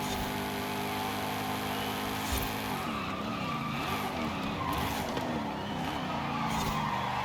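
A 2024 Ford Mustang in Forza Horizon 5 drives hard with a loud, steady engine roar and long stretches of skidding tire squeal, its pitch sweeping up and down through the corners.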